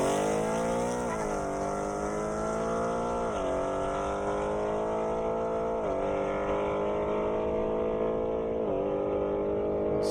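A Ford Mustang GT and a Jaguar F-Type race side by side on an airstrip, engines revving hard and climbing in pitch, with several sharp drops at gear shifts as they accelerate past.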